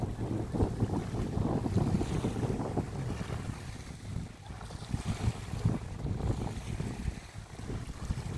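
Strong wind at a Big Bear lake beach buffets the microphone in loud, rumbling gusts, with water sloshing faintly underneath; no voices.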